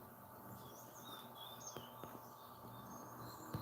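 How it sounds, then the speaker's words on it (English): Faint, high chirps and tweets from red robins scattered over a quiet outdoor hum, distant and intermittent, with no one talking. "Just watch these birds chirp, so cool."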